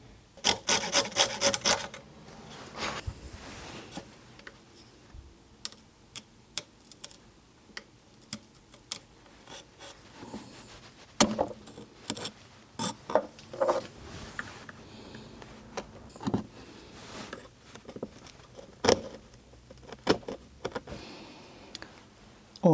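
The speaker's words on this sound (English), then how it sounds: "All the nails have been trimmed" Excess nails are trimmed and filed flush on a repaired wooden tea table leg, heard as quiet, intermittent rasping scrapes and small ticks with short gaps, close by.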